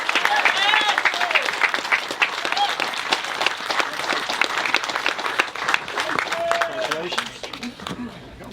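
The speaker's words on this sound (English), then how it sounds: "Please join me in congratulating Dave Brandt as a 2020 recipient of the Travis Solomon" Audience at an induction ceremony for lacrosse legends breaks into sustained applause, dense clapping filling the room and tapering off toward the end, with voices and cheers mixed in.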